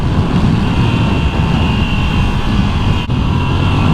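A 2024 Moto Guzzi V85TT motorcycle engine roars loud and steady at close range, its constant drone briefly dipping for a gear shift before pulling on.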